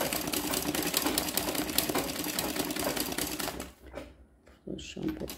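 Machine embroidery sewing machine running steadily with a rapid, continuous stitching rattle, close and fairly loud, then briefly pausing and restarting near the end.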